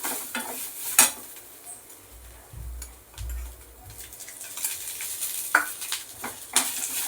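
Grated coconut frying in a little oil makes a soft, intermittent sizzle. A few sharp clinks of a spoon against the pan and low rumbling handling noises come through, all close by and without speech.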